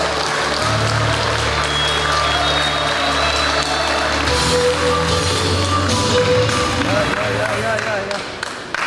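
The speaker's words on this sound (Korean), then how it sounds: "큰 박수로 맞이해 주시기 바랍니다" A Rotary club crowd at a presidential inauguration ceremony applauds as the new club secretary comes forward, a steady wash of clapping over sustained background music throughout.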